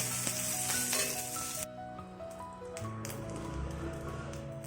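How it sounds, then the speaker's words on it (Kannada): Curry leaves sauté in a pan for curry leaf chutney powder, a steady close sizzle with light tapping, loud at first and then settling to a softer, continuous crackle. "ಸೊಪ್ಪು ಹಾಕಿದ ಮೇಲೆ ಚೆನ್ನಾಗಿ ಬಾಡಿಸಿ ಒಂದು ಐದು ನಿಮಿಷ ಚೆನ್ನಾಗಿ ಬಾಡಿಸ್ಕೋಬೇಕು"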